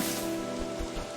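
Steady, dense rain patters without a break in the survival game Don't Starve Together, a continuous wash of droplets with a faint low hum underneath and no voices.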